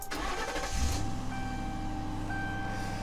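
An old police K9 unit car with 122,000 miles cranks briefly and catches, then settles into a steady idle hum with a faint high whine.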